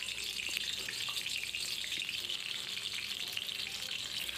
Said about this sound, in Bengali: এরপর আমি 1 মিনিটের মতো আলু ভেজে নেব।